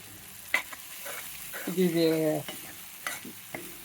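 Gravy ingredients for rajma sizzle and fry in a pan, with a short burst of stirring and scraping in the middle and a few light clinks, fairly close and alone without talk.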